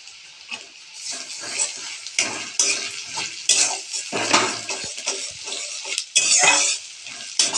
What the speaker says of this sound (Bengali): এটা কিছুক্ষণ ভাজবো।